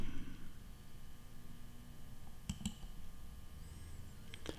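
A few crisp computer mouse clicks in quick pairs during a GeoGebra geometry software tutorial, set against a steady low hum and hiss.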